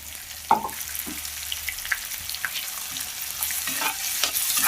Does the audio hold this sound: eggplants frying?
yes